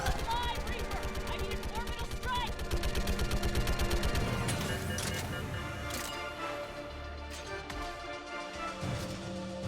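Rapid weapon fire from a Mass Effect 3 battle against a Reaper, a dense, steady rattle of shots layered with game music and effects, under a speaking voice.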